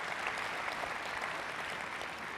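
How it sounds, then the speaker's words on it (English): Steady audience applause at an aviation industry conference opening plenary, a dense, even wash of many hands clapping in a large hall, moderately loud and without speech. "Quick round of applause,"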